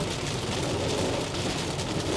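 Heavy rain pours onto a Hyundai Ioniq 5 car, a dense, steady hiss and patter of drops drumming on the body, constant and close without any talk.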